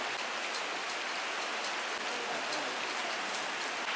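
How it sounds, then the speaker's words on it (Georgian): Steady rain falls on a garden in Kakheti, wetting chairs, a table and roses, making a continuous dense hiss with scattered nearby drop taps, close and even, with no voices. "აი როგორ წვიმამ დაუშვა ნახეთ"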